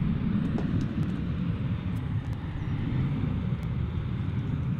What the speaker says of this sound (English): Qantas Airlines. 787-9 Dreamliner, Qantas Flight 7.